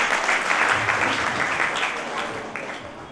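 Audience applause at an Arya Samaj youth council anniversary gathering, a dense steady wash of many hands clapping together for about three seconds, tapering slightly toward the end.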